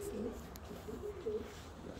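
Large domestic pigeons cooing softly, low throaty coos repeating in a steady rhythm at moderate distance, faint and alone with no talk.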